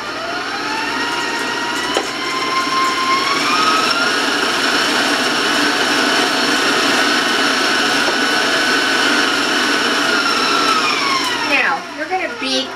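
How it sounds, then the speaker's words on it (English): An electric mixer beating eggs with granulated sugar, a loud steady whining motor drone held close for about eleven seconds before it winds down and stops near the end. "I'm going to warn you about the sound of the mixer,"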